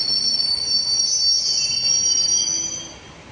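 A train's wheels squeal loudly and steadily against the rails at Pudukkottai station at night, a high sustained screech from the Sethu Superfast Express that fades slightly near the end as the train slows.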